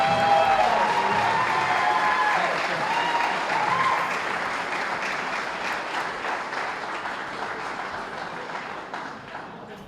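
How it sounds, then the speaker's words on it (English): A hall of fame induction audience applauds in a large room, a dense wash of clapping that starts strong with a voice briefly over it, then slowly fades. "we should absolutely give a round of applause to Mr. Nick Zakilli for pulling this all together"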